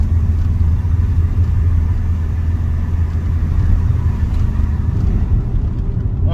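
Mitsubishi Chariot with a 4D68T diesel engine rumbles low and steady from inside the car as it pulls away, a constant engine drone with no clear rise in revs.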